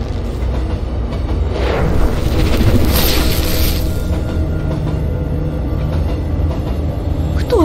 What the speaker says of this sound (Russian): Дорогие пассажиры, поезд прибывает на станцию парковочная.